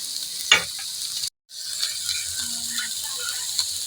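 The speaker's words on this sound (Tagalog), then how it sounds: "So, next na natin dito ibuhos yung ating ginawa kaninang sauce." Sweet and sour sauce poured into chicken sizzling in a pan, a close steady sizzle with a brief clatter early on, a short cut to silence, then softer bubbling and stirring noises.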